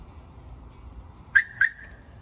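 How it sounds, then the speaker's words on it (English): A car alarm system on a Slingshot gives two short sharp chirps in quick succession when armed or disarmed from a phone, clear against a quiet background. "To arm it from the phone, you can hit lock. Arms the alarm in the Slingshot."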